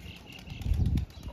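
Two young pigeons take their first flight in the rain, wings flapping in a brief, close, muffled flurry that swells for about half a second and then fades.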